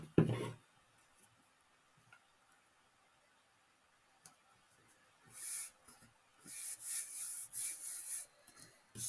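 Card paper pieces for a fun-fold easel card rubbed and pressed down by hand, soft scratchy rubbing strokes coming in close bursts after a quiet stretch with a few faint taps.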